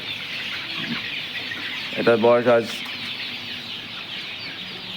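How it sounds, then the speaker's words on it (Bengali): Tiger breed chickens clucking on a poultry farm, a short burst of clucks in the middle over a steady background hum, with a person speaking nearby. "এই যে এখানে আছে আমাদের টাইগার মুরগির বাচ্চা"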